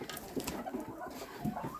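Ducks in a farmyard pen give soft, scattered quacks and low clucking calls, close but fairly quiet, with no talking over them.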